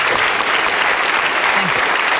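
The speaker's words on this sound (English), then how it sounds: "Ladies and gentlemen, Kurt Eppel, the bowman. Good night, round of applause." A live audience applauds an arrow-catching bowman, Kurt Eppel, at a stage show, with a dense, steady wash of clapping that stays loud and even for the whole stretch.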